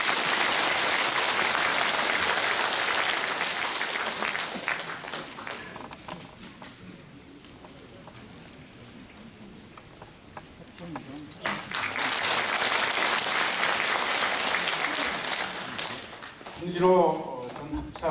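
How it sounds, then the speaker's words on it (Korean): An indoor audience at a public rally gives a speaker a warm welcome with loud, dense applause. It fades to a quieter lull, then swells into a second strong round of clapping before tapering as a voice begins. "여러분 뜨거운 박수로 맞이하시기 바랍니다"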